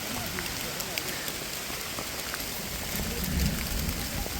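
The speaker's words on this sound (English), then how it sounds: "And it's Hailstorm." Rain and hail pour steadily on a jungle forest trail during a storm, a dense hiss with scattered sharp ticks of impacts and a low rumble of thunder swelling toward the end.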